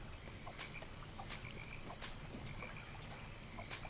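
Frogs croak in the Albion Online video game, sharp repeated calls spaced roughly every second over a constant ambient hiss, with no talking.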